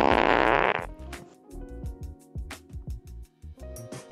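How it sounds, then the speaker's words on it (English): A loud fart sound effect: a long, blaring burst followed by a run of shorter sputtering toots. "loud fart."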